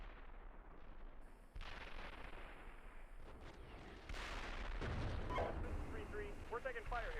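Tank combat in the simulator Steel Beasts Pro PE brings rumbling artillery and gunfire, with distant thuds giving way to heavier, closer blasts and crackling shots, while radio chatter carries over the battle.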